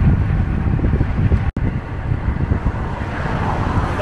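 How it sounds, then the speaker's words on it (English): Wind buffets the microphone during a morning bike ride in Lusail City, Qatar, a loud continuous rumbling roar with one brief dropout. "we're having a little bit of wind, which makes it amazing"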